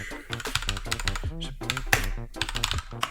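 Fast, clattering keystrokes on a compact mini mechanical gaming keyboard, a dense run of sharp clicks close to the microphone, with a voice faintly present in the background.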